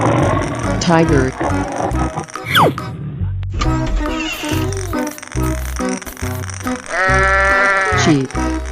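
Sheep bleats from a 3D animal video game, a wavering cartoonish bleat standing out near the end over loud game music and mechanical sound effects, with someone speaking around it.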